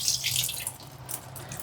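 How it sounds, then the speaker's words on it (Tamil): Tap water runs steadily into a sink while fish is rinsed under it, a continuous close hiss and splash with small watery fluctuations. "ஒரு தடவை தண்ணியில் அலசிடுங்க"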